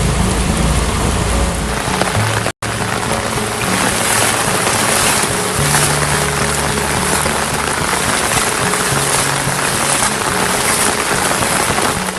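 Heavy northeast monsoon rain pours down over flooded homes in Kondur, Cuddalore district, a dense, unbroken roar of downpour that stays loud throughout, with a deep low rumble beneath it.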